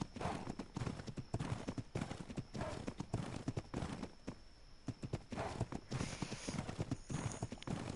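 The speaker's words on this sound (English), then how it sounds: "Every time I run a horse up this cliff" A horse gallops up a cliff in the video game Ark, its hooves clattering in a steady, rapid clip-clop rhythm that stays loud and close throughout, with a brief whinny mixed into the pounding.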